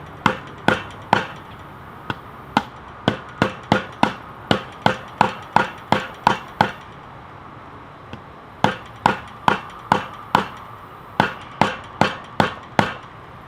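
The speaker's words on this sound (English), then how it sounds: "It's going to be hard to hammer in because it doesn't even have a tip." Blows of a hammer driving a Cold Steel XL Voyager folding knife, its blade lacking a tip, into wood: sharp, evenly spaced strikes in two long runs separated by a short pause, loud and close, with no talking.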